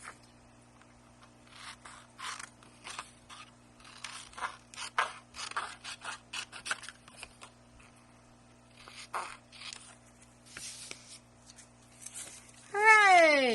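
Scissors cut through thick, near-cardstock paper in a craft setting, giving a series of quiet, crisp snips and scrapes at an irregular pace, close up, followed by a brief louder rustle at the end.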